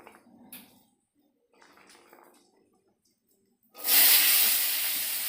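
Potatoes hit a hot pan for khichuri and burst into a loud, bright, steady sizzle after a few quiet seconds of faint kitchen sounds, then keep hissing strongly up close.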